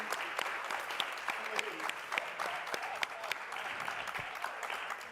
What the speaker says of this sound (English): So can we get some applause so we can get back to the conversation?